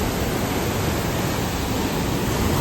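Forceful water rushes down a waterfall in a steady, loud, unbroken roar that fills the whole scene, with no voices.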